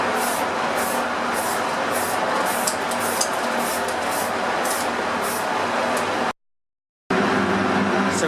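An aerosol spray can sprays primer onto small components in repeated close hissing bursts, with a brief break in the sound near the end.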